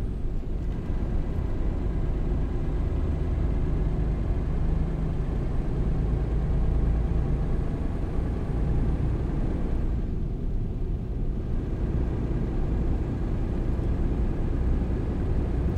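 A truck engine in a truck driving video game on a Turkish map near Tokat, a steady loud low drone that runs unbroken throughout with a brief dip in the higher tones midway and no talk.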